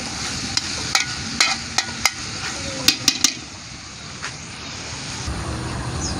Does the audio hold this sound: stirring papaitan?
yes